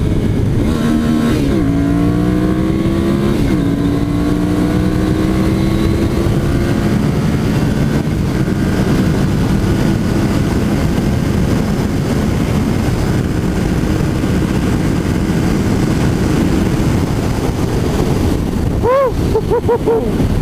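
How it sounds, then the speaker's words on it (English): A 2014 Ducati Monster motorcycle accelerates hard, its engine revving up through rising pitch sweeps with gear changes, then settling into a loud sustained drone with heavy wind noise. "This is a 2014 Ducati Monster 800, and the acceleration is most definitely there."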